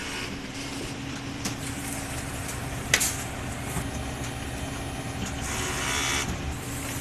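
An inkjet printer runs a head cleaning cycle, a steady mechanical hum and whir running continuously, with a brief click partway through and a brighter high-pitched whine near the end.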